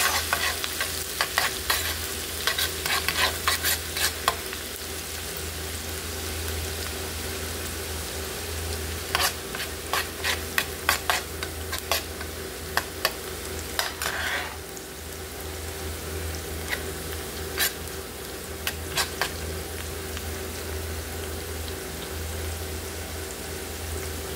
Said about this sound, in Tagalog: Gigisa tayo. Ating bawang. Sibuyas.